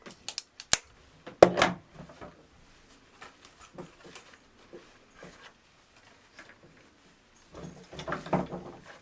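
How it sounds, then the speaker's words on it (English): Floral scissors snip dried willow branches in a few sharp, crisp cuts near the start, followed by scattered soft handling clicks and rustles, and a rustling burst of stems near the end. "Cut them using very good floral scissors."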